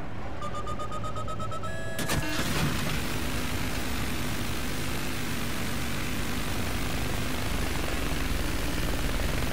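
A video-game helicopter's whirring roar kicks in after a couple of seconds and then holds steady as a broad, continuous rumble.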